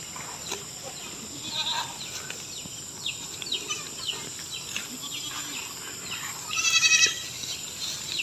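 Goats bleat a few times at moderate distance on a farm, brief cries over a quiet outdoor background with insects buzzing.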